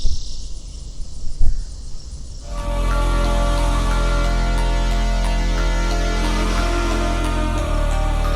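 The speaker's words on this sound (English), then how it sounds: "there are so many bugs that make noise up here that you can just hear it as like a constant hissing coming from the" Insects in trees at a camping spot raise a constant, loud, unbroken hiss that swells in about two seconds in and holds steady, drowning out a few faint bird calls.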